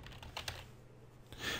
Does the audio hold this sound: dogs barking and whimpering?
no